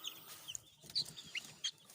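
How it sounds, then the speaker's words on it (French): A young hen gives short, scattered clucks and chirps over about two seconds, close by but fairly quiet against a faint background. "Petite poule."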